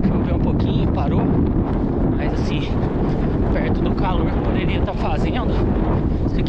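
Strong wind buffets the microphone outdoors during the Indomit Pedra do Baú 2024 trail race, a loud continuous rumbling roar that stays heavy throughout, with faint indistinct sounds mixed in.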